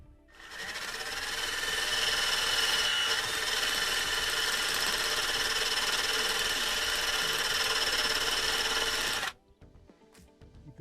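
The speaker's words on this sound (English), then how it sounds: "we're just going to use a wire brush. To speed it up, we'll use one that's hooked to a drill." A power drill spins a wire brush against a truck's metal frame in one long, steady, loud grinding whir lasting about nine seconds before cutting off abruptly.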